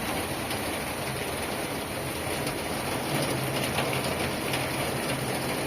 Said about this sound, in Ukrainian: А ось і дощик пішов.